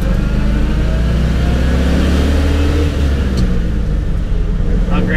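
Engine of a 1977 Dodge D200 Custom Utiline stepside long-bed pickup towing a trailer, a loud, steady, close-up drone with continuous road rumble and no change in pace.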